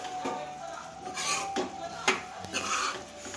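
A spoon stirs chicken pieces in a metal pan for a Telugu curry leaf chicken fry, giving repeated close scraping and clinking strokes at an uneven rhythm, with no talk over it.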